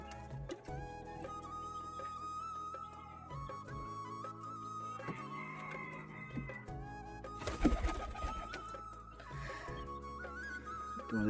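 Pigeons coo softly in a loft, low repeated throaty calls overlapping at a quiet level, mixed with light ticking and shuffling noises and a brief louder rustle midway.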